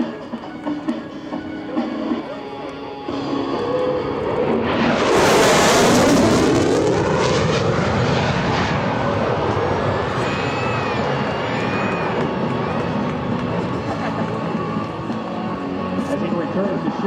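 An F-16C Fighting Falcon fighter jet performs a demonstration flight at the EAA AirVenture Oshkosh airshow, a loud jet roar building sharply and then sustaining with a broad, rumbling wash, while an announcer talks over it.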